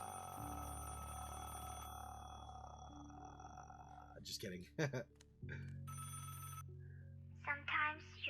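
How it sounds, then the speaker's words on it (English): A telephone rings in the Never Again video game, a steady electronic trill sustained through the first few seconds before breaking off, followed by someone talking over quieter creepy background ambience. "the phone starts ringing"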